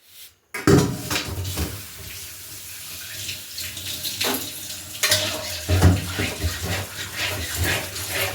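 Dal pitha dumplings boiling in a pot of water: a continuous close bubbling and sloshing with a few clanks of the pot, steady throughout.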